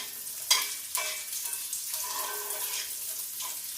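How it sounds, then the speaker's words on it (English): Leftover potatoes dropped into a teaspoon of hot olive oil with a little butter, giving a sudden burst of sizzle and a few clattering knocks, then an even crackling hiss. "I'm just going to throw those leftover potatoes in that hot oil"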